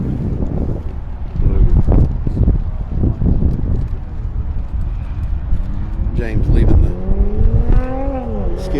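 Cars circling a wet skid pad at a Tire Rack event, engines revving and rising in pitch with wind buffeting the microphone and a commentator talking over the motor noise.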